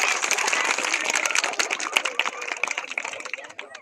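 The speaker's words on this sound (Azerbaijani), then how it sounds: "Xanaca məktəbini alqışlayaq uşaqlar." Applause for the Xanaca school at a ceremony with medals handed to teachers: dense, close clapping from a crowd that fills the whole stretch, then tapers slightly toward the end.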